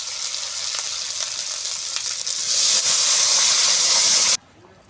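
Mung dal lentils tipped into hot cooked spice paste, setting off a loud, close, bright sizzle that swells partway through and then cuts off abruptly near the end.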